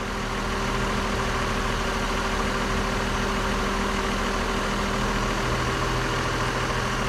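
A car engine idles steadily at home during a GDI/DPI intake valve cleaning treatment, with the vehicle half out of the bay. A constant, even low hum runs throughout with no talking.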